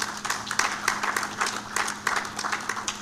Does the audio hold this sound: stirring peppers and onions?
no